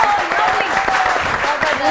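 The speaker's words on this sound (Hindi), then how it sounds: "तालियां।" A studio audience on a television show gives steady, moderately loud applause that holds evenly through the whole clip, with a faint voice underneath.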